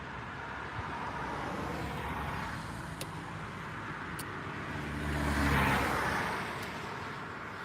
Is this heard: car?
yes